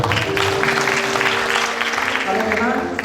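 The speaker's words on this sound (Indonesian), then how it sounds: "Tepuk tangan buat" Applause from a congregation at an evening church revival service, steady clapping running throughout with music and a voice carrying over it.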